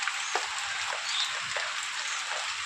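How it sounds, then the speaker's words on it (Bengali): Rain pours down steadily, a dense hiss of drops with occasional louder splats close by. "তো বৃষ্টি আর থামাথামি নেই"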